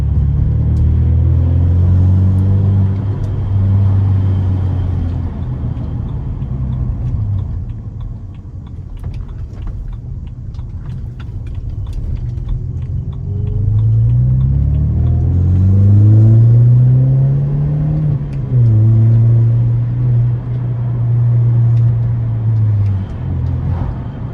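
A BMW E93 with a new exhaust drives along, its deep engine rumble rising and falling with throttle, with a brief lull in the middle and faint pops when lifting off, close and loud.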